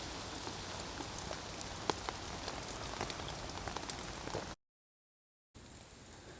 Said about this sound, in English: there's nothing better than sitting watching a fire flickering when it's dark and raining